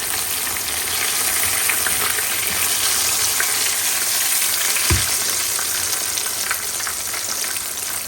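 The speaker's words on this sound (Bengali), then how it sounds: "প্রথমে 2 পাশে ভালো করে একটু ভেজে পরে আর কি একটু আস্তে জাল দিয়ে দেবো" Chicken chap frying in a pan, a dense continuous sizzle held at an even level throughout, with one brief low thump midway.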